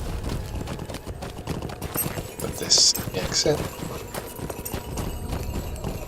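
Horse hooves clop in a rhythmic gallop while riding in Lord of the Rings Online, close and fairly loud, with a voice talking over them and a brief bright effect chiming midway.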